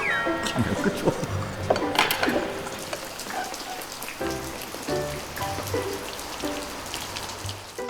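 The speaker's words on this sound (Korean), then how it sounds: "하지만 비가 그칠 생각이 없어 보이니" Rain falls steadily on surfaces at a Buddhist temple during a temple stay, with near drips and light clinks over a constant patter, and faint voices now and then.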